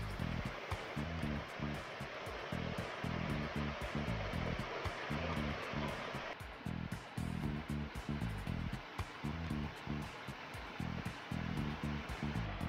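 A fairly tall waterfall in the Tsao Shing rocky stream above Shing Mun Reservoir, Hong Kong, during the dry season, rushing in a steady broadband wash of falling water that is quiet but continuous.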